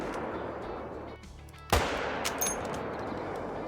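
A single sharp, heavy crack of a Solokhin rifle firing in the hunting game theHunter: Call of the Wild, bursting out of quiet ambience and ringing into a long rumbling tail, with a fainter echo following.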